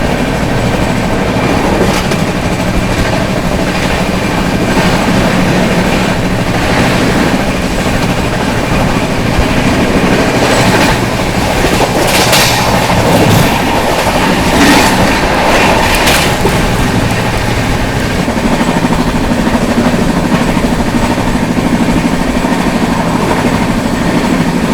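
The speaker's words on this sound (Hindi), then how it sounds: "सामने से आ रही है बनारस से चलकर आगरा कैंट की ओर जाने वाली वंदे भारत एक्सप्रेस" Loud, continuous rumble and rattle of the Vande Bharat Express running from Banaras toward Agra Cantt, with rhythmic wheel clatter sustained for the whole stretch.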